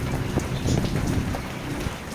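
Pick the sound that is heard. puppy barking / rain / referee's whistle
rain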